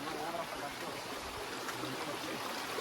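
Stream water flows at Muthyala Maduvu falls near Anekal, a soft, steady broadband rush without break, heard at a distance and faint.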